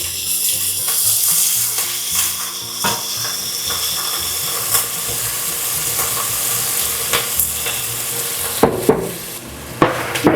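Onions frying in a pan as the base for a Hungarian chicken gravy, with a loud, continuous sizzle broken by scraping stirs and a few sharp utensil clacks near the end.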